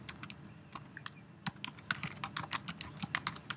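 Fingers type on a computer keyboard in quick, uneven bursts of close clicks that speed up toward the end, with no speech.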